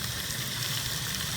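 Kielbasa sausage and onions fry in a Dutch oven with a soft, even sizzle and a faint low hum, steady and fairly quiet throughout.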